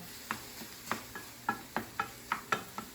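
Onion and garlic sauté lightly in a pan while a utensil taps and scrapes in a quick regular rhythm, about three strikes a second, over a faint soft sizzle, close and fairly quiet.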